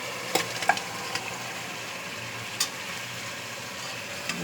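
Meat and fried potatoes go into hot spiced oil for kacchi biryani, giving a continuous even sizzle with a few brief clinks and scrapes near the start, and no talking.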